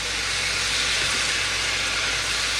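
Hilsa fish curry sautéing in a pan, a loud, even, unbroken sizzling hiss held throughout with no voices.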